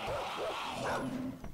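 Dogs barking in the survival video game 7 Days to Die, a few short yips and barks at moderate distance, alone without talk.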